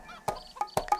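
A hen clucks in a few short, separate bursts, close by and fairly loud, with brief quiet gaps between the calls.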